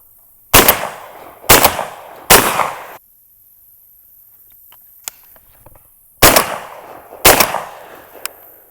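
Five sharp, loud shotgun blasts at targets, three in quick succession, then a pause with faint clinks, then two more, each a close crack with a short decaying tail.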